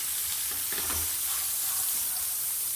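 Potatoes, peas and green chillies frying uncovered in oil in a pan, giving a steady, even sizzle that stays close and moderately quiet throughout, with no talking.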